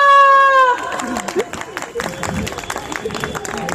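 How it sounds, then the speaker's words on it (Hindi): After a sustained sung or drawn-out vocal note, a scattering of audience claps and crowd murmur breaks out at a community's annual celebration, uneven and mixed with voices during a comic stage skit. "तालियां"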